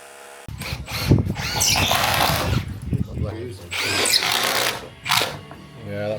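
Power drill driving fixings into conservatory roof rafters, with loud close bursts of whirring motor and grinding that rise and stop several times, while a person talks over it.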